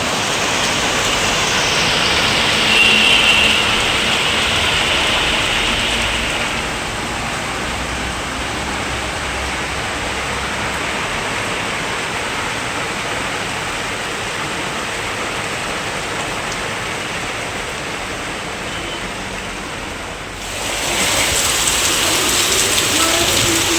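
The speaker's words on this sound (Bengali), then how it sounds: "কি পরিমাণ বৃষ্টি হচ্ছে" Heavy rain pours steadily and loudly throughout, a dense continuous hiss that briefly shifts near the end.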